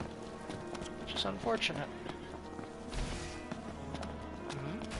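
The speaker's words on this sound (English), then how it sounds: "Horses, huh?" Horse hooves clip-clop in Final Fantasy XV during gameplay, a moderate rhythmic trotting beneath a man's speech and game sounds.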